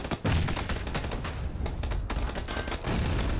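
In the game PUBG, a frag grenade blast and rapid gunfire ring out, with a loud close burst at the start, then dense rattling shots and another heavy burst near the end.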